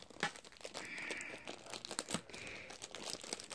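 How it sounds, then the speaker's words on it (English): A plastic bag is torn open and crinkled during a gift unboxing, with close, sharp rips and rustling crackles in short bursts. "we'll get that bag open really quick"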